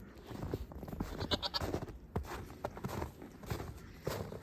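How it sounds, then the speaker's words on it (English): Goats foraging outdoors in snow on a farm, with bleats and footsteps crunching close by in an uneven, busy patter, plus scattered rustling and a few sharp higher calls. "The goats are out foraging."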